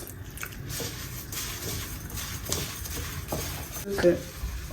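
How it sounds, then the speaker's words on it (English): Water poured into garri seasoned with a little salt, then stirred and mixed in a bowl, giving wet squishy scraping and light clinks of a utensil against the dish, close and moderately loud with a steady background bed. "add some salt, just a little bit of salt. Salt is always to your taste, and then some water to make it wet"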